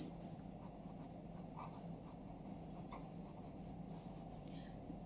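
Marker or chalk writing on a board in a Hindi-language maths class on fractions, a steady scratchy stroking that runs continuously and close, with no talk over it.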